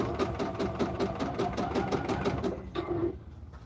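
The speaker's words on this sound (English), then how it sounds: "So we'll stitch that." Sewing machine running steadily as it stitches stretch fabric for knee pads, a continuous rhythmic whir that stops briefly near the end, close and clear with no talking.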